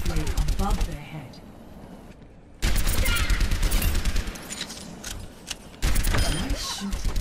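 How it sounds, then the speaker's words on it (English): Rapid automatic gunfire in Overwatch training, fired at practice bots in long sustained bursts that break off briefly and resume, loud and close, with game voice lines and effects underneath. "Let me get you something a little more challenging to shoot at."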